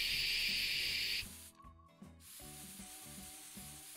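A bottle of car glass cleaner sprays onto windows in Car Detailing Simulator, a loud hissing spray for about a second, then quiet low background noise with a faint click.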